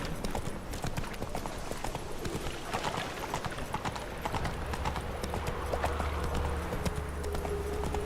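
In The Witcher 3, the horse Roach gallops on, continuous rhythmic hoof clip-clop sounding close and steady, with a low hum and faint game ambience underneath.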